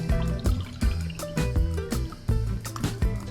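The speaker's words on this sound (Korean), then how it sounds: "마지막으로 기호에 따라서 토닉워터나 탄산수를 채워줍니다." Tonic water or sparkling water poured into a cocktail glass packed with ice for a peach highball, a close, loud gurgling stream broken by repeated clinks and pops from the ice cubes.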